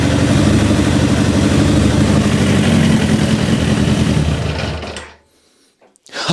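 A Suzuki GSX-R motorcycle engine from a revived barn find runs steadily with the throttle cracked slightly open, a loud close drone that cuts out abruptly near the end before a brief burst returns.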